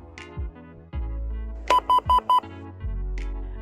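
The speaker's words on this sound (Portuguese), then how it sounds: "ao aproximá-la do porteiro, serão emitidos 4 bips curtos" An XPE 1001/1013 Plus ID access controller rejects a master tag with four short, evenly spaced electronic beeps in quick succession, set between softer tonal chimes and low thumps.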